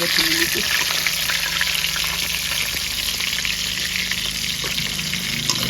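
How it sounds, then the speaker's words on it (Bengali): Mirik fish frying crisp in hot oil, a dense steady sizzle heard up close with faint background hum and a few light clinks. "একটু কড়া করে না ভাজলে বন্ধুরা ভালো লাগে না"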